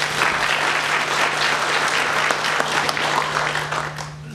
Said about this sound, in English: give yourselves a round of applause for being here and taking interest in this process